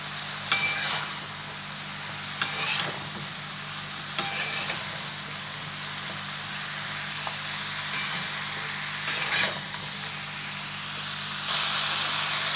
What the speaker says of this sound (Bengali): আবার সব নেড়ে মিশিয়ে দেব।